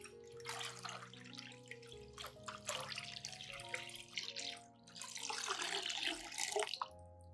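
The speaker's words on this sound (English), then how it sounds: "Add 1 liter of clean water to dilute the solution." Clean water poured into a plant solution for a peace lily, a faint trickling and splashing pour with drips, quiet and close, without talk.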